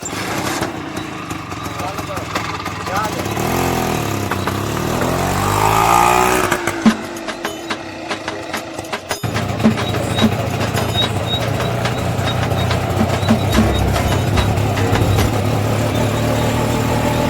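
An auto rickshaw engine starts up and keeps running, a loud, rough, close idle and revving under people talking.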